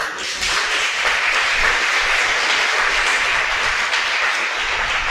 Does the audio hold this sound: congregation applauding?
yes